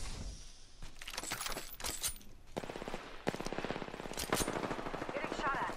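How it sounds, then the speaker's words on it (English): Automatic gunfire bursts in the video game Apex Legends, rapid staccato volleys with metallic clinks, loud and continuous through the whole stretch, with a voice talking now and then under the shots. "Getting shot at."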